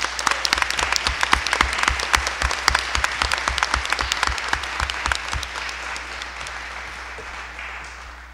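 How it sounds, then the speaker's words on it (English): An audience at a school board meeting claps for four recognised groups, a dense burst of many hands that starts loud and thins out gradually over about eight seconds, with no talk over it. "If we could give a round of applause for those four groups,"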